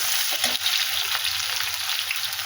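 Potatoes frying in a hot pan for a koi fish curry, a bright steady sizzle with faint stirring scrapes, close and continuous throughout.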